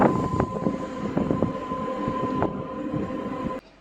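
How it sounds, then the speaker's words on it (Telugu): A MEMU train pulls into Pendyal station, its steady rolling rumble and a constant electric hum broken by irregular clanks from the wheels before the sound cuts off abruptly. "పెండియల్ స్టేషన్కు మన ట్రైన్ చేరుకుంది"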